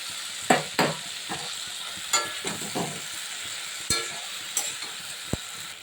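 Fish head and spinach roots sizzle in a pan under a steady hiss of frying, broken by several sharp spatula scrapes and knocks as the food is stirred, close and fairly quiet with no talking.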